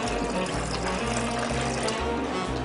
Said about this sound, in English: And then we're also going to put some pineapple juice.